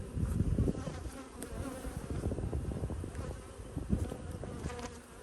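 Honey bees swarm and buzz around an opened hive in an early spring apiary, a dense, steady droning hum with individual bees zipping close to the microphone, and no voices.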